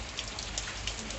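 Steady rain falling and pattering on a surface, a continuous even hiss with scattered brighter drop impacts, no voices.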